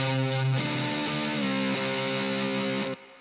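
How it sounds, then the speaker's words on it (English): Electric guitar played through a hard-clip distortion setting on a clean amp channel, a thick buzzy sustained chord with shifting notes, ringing steadily for about three seconds before cutting off abruptly, no voices. "you can hear hard clip."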